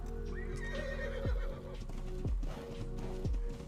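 A horse in a survival video game whinnies and snorts, with hollow hoof clops landing in a regular beat about once a second, clear and close.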